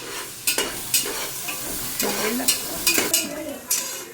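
Onions frying in a pan with cinnamon, cloves and pepper, a close sizzle broken by repeated stirring scrapes and clinks of a spoon against the pan, several strokes over a few seconds.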